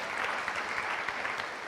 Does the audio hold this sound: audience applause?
yes